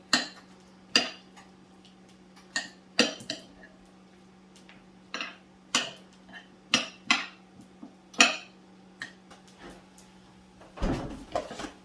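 Cheese, corn and mayonnaise being mixed in a bowl for a cursed sushi grilled cheese, with repeated sharp utensil clinks and scrapes against the bowl in an irregular rhythm, close and fairly quiet, and a low steady hum throughout.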